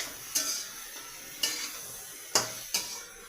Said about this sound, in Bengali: সবগুলোকে আরও 10 মিনিট ভালো করে ভেজে নেব আমি।